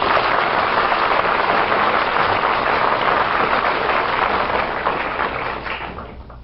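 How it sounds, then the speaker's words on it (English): A crowd's round of applause for veteran umpire Bill Klem, a dense, steady clatter of clapping that holds evenly and then thins out and fades toward the end. "I think we ought to give Bill a nice round of applause for that."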